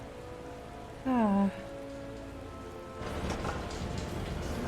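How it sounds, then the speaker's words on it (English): Rain in Final Fantasy XIV, a soft steady patter that swells louder partway through, with a short vocal exclamation near the start. "Oh, it's raining."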